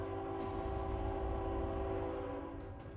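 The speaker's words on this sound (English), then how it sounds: "that train is too loud" A video game train rumbles steadily past at close range with a low, dense roar and a sustained tonal hum, staying loud throughout before easing slightly near the end.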